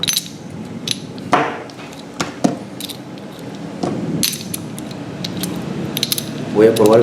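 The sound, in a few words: metal gear sprocket being fitted on shaft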